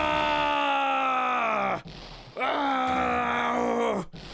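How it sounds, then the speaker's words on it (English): A long, loud, anguished scream from a character in the Phoenix Wright: Ace Attorney video game, sounded twice with a brief gap, each drawn-out cry falling in pitch as it fades. "I've heard that scream before."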